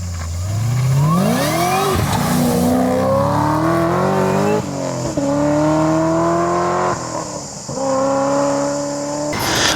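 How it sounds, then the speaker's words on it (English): Supercharged LSA V8 in an HSV VF GTS revving, with loud rising and falling engine tones and a steady high supercharger whine throughout, alone without talk. "More air means more horsepower, more boom, and of course, more whine like this."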